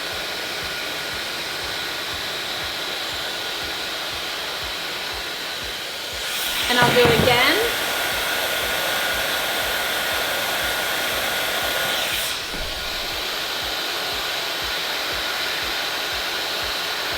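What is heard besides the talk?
blow dryer styling hair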